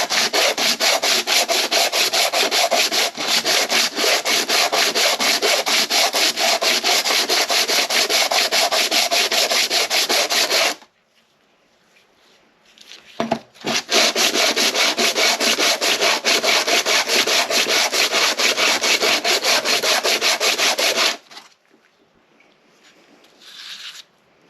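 A sandpaper sheet is rubbed by hand over a surface in two long, loud, continuous bursts of fast scratchy friction, with a quiet pause between them and a few faint knocks.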